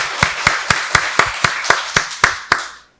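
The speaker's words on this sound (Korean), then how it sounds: "박수로 하나님께 영광 돌리겠습니다" A church congregation at a Sunday worship service claps in unison, about a dozen sharp, evenly spaced claps in a brisk steady rhythm, loud and close, ending abruptly and fading out.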